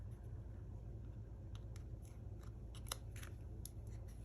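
Scissors snip through a small scrap of silver paper during card making, a few short crisp cuts, quiet and close over a low steady background hum.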